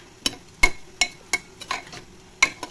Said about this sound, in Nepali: यसरी हामीले चाहिँ राम्रोसँग चलाउनु पर्ने हुन्छ सबै मसलाहरूलाई